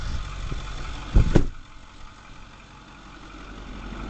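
A Ford 6.4 diesel pickup starts with a short, loud crank burst and then settles into a quiet, smooth, steady low idle.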